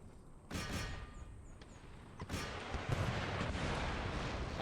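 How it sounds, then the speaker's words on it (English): Artillery fire in the video game Empire: Total War, several deep booming cannon shots spaced a second or two apart over a low rumbling battlefield background, fairly faint and distant. "Artillery!"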